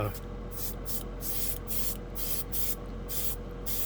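Revell matte light green enamel paint, thinned only slightly, spraying steadily from an airbrush in a continuous close hiss broken by short regular pauses between passes.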